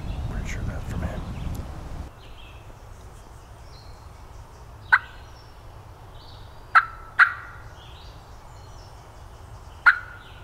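A wild turkey in Massachusetts gobbles from a distance, four separate sharp gobbles spread out over quiet woods, with faint rustling and soft whispering at the start.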